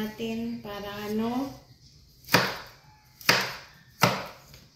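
Tofu is chopped on a cutting board for cooking with vegetables. Someone talks briefly, then three sharp, evenly spaced knife chops land close by.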